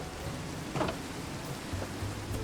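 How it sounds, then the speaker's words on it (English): Steady rain falling at night in the video game Minecraft, a continuous close hiss of drops with small swells and no voices. "Quite rainy out tonight"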